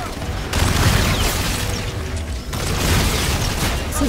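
Gunfire and booming bursts fill a Call of Duty: Infinite Warfare firefight, a dense, continuous barrage of shots and blasts running the whole stretch at steady loudness with mechanical clatter mixed in.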